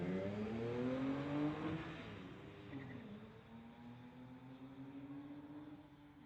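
Two street cars, a 2006 Infiniti and a 2011 BMW, launch in a drag race at the strip, loud engines revving and rising in pitch before easing into a steadier drone as they pull away.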